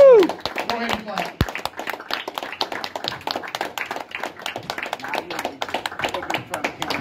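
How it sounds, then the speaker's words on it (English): An audience at a stand-up comedy show claps, a dense run of sharp hand claps that continues steadily at moderate loudness, opening with a short whoop and brief voices before the applause takes over. "Give me a round of applause."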